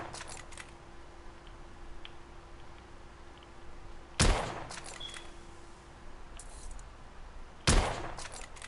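Two loud, sharp gunshots from the video game The Order: 1886, a few seconds apart, each with a brief echoing tail over a quiet background with a faint steady hum.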